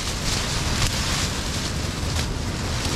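Strong wind roars across a campsite and buffets the microphone in a loud, unbroken rush with faint gusting swells and no voices.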